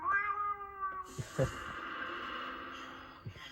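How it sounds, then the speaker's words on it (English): Cartoon cat Pilchard from Bob the Builder meowing, a drawn-out, whiny meow with a tonal cry that slides down, followed by a soft snort and a hissy, breathy tail. It sounds close, with no talk over it. "That meowing noise that Pilchard just did"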